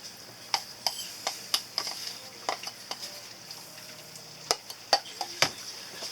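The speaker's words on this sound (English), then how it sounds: "You can just vibrate it in with my spatula." A spatula works a dental stone mixture inside a flask, producing a string of sharp, light taps and clicks at an irregular rhythm, close and fairly quiet, with no voices.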